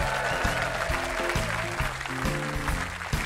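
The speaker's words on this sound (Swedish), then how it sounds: "Ger dem en rasande lång och härlig applåd." A sing-along concert audience at Gränna in 2011 applauds the backing singers with dense, continuous clapping over a musical backing throughout the short burst.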